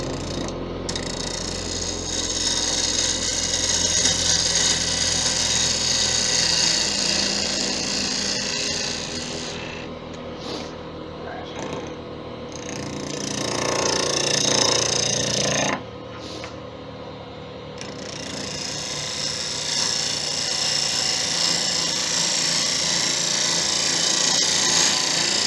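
A grinder shapes a wood turning with a continuous loud abrasive whir and rasp, easing off briefly in the middle as the pressure changes, then grinding on steadily.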